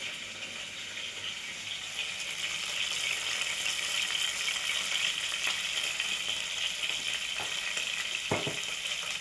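Chopped onion, capsicum, green chilli and beans frying in oil for upma make a steady, fairly faint hiss that grows slightly louder, with a couple of soft knocks near the end.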